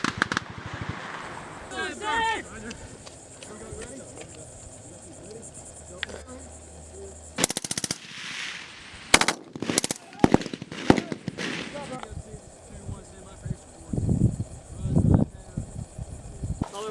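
Bursts of machine gun fire crack out in sharp rapid volleys during a military exercise, loud and close, broken by pauses, with steady crickets chirping underneath and voices calling out between bursts.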